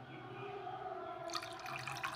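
Water poured into creamy homemade buttermilk in a kitchen, a soft splashing trickle that starts partway through and continues to the end, close and moderately loud.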